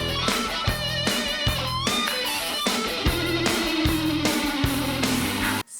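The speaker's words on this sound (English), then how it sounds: "But then you'll come across guitar solos like this." Dense, angular electric guitar solo from a power pop vinyl record, full of bends, squeals and a sliding note, with a busy band beneath it, loud and continuous until it cuts off abruptly.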